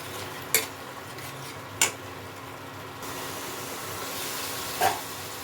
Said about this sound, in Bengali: হলুদ, স্বাদ মতো নুন আর একটু জল দিয়ে কষিয়ে নেব মশলাটা ভালো মতো।